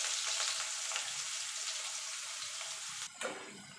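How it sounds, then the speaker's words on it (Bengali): Potatoes fry in oil with a constant hiss of sizzling, then a brief clatter near the end as they are stirred or moved, with no one speaking. "আলুগুলোকেও লাল লাল করে ভেজে নেব।"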